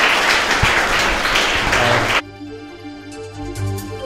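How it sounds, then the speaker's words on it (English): An audience applauds a tech panel, a dense burst of clapping that fills the room and cuts off abruptly partway through, leaving quieter background sound. "You guys give them a round of applause."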